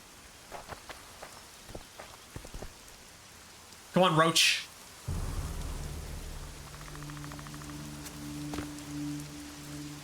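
Rain in The Witcher 2 falls as a soft, steady hiss, joined midway by a short louder burst and then a low continuous rumble, while someone speaks briefly.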